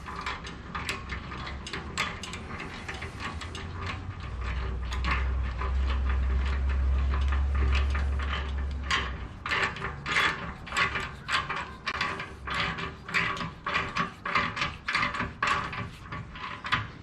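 An exhaust pipe clamp is tightened with a 15 mm ratchet on a 2022 Harley-Davidson Street Glide Special, giving a rapid series of close, sharp ratchet clicks throughout, with a low rumble in the middle.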